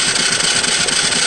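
An engine with half its parts rebuilt runs at a loud, close, steady idle, an even churning drone with a fast regular pulse and no voices.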